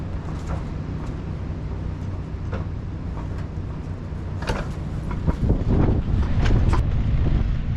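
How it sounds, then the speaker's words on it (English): Strong wind blows outdoors at a yard during a power outage. It gives a steady, rumbling buffet against the microphone that grows heavier and gustier toward the end, with scattered faint knocks. "Man, this wind is something today."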